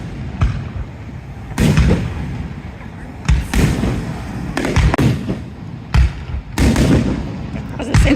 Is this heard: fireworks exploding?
yes